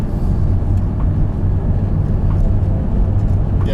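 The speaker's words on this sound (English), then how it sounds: "now you hear the engine when you do that" A steady, low engine drone from a Nissan NV350 van roars continuously throughout, the motor working hard under kick-down acceleration with a constant rumble and no voices.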